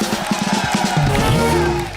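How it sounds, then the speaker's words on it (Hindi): A studio audience on a comedy talk show cheering and applauding for a visiting Hindi poet, with loud, close crowd noise and whoops and shouts over the clapping. "डॉक्टर साहब के लिए एक बार जोरदार तालियां हो जाए।"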